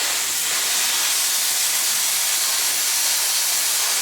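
Finish Line Speed Degreaser sprayed in a steady, continuous hiss onto a bike chain during a bike-shop tune-up, loud and close, unbroken for several seconds without any talk.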